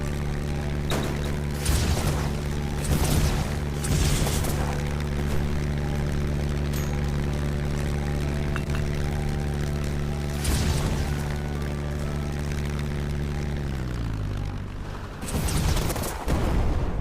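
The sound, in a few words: missiles firing in the video game Black Skylands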